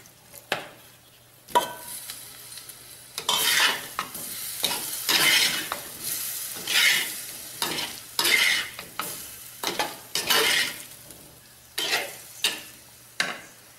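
Spicy potato masala roasting over a low flame in a pan gives a bed of soft sizzle. Repeated spatula stirs scrape and clatter over it at irregular intervals, close and fairly loud.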